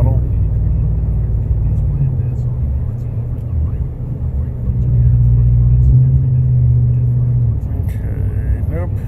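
A 2019 Ram 1500 Classic with a muffler delete and Y-pipe, heard from inside as a deep, steady exhaust rumble while the driver eases off the throttle, with a voice talking over it.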